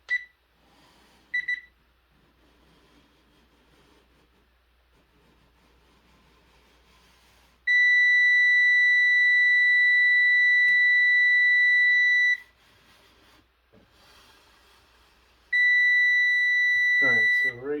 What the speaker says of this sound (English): So I've got my stud finder out, and let's see if we can find a stud here.